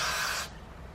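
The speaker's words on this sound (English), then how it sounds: "Some spray." One short hiss from a spray bottle misting a blonde synthetic lace wig, close and crisp, cutting off abruptly.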